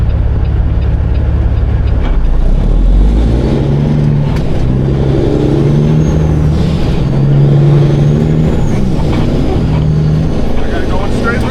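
A truck towing a dump trailer makes a turn with a steady loud diesel engine drone and low rumble throughout, and someone talks over it.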